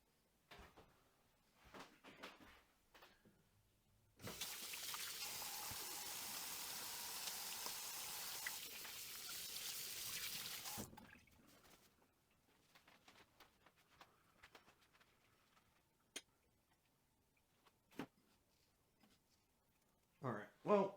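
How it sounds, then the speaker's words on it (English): Tap water runs into a kitchen sink for about six seconds of steady hiss while hands are washed, surrounded by quiet clatter, knocks and handling sounds. "I'm going to go wash my hands"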